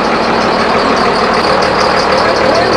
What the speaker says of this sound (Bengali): এই হচ্ছে ইঞ্জিন চলছে